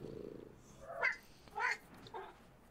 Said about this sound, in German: Hund, der aussieht wie eine Katze.